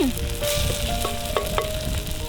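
A prawn and egg curry with tomato and chilli is stirred in a hot pan, giving a close, steady sizzle punctuated by several sharp scrapes and clinks of the spoon against the metal.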